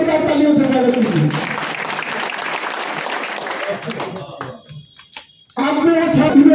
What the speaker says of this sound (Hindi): इसके लिए जोरदार तालियों से स्वागत कीजिए